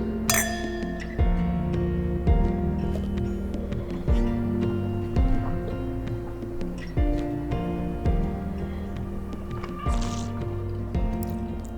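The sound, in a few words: wine glasses clinking in a toast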